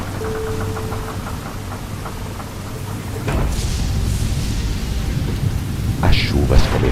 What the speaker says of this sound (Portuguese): As chuvas começaram em dilúvio durante 40 dias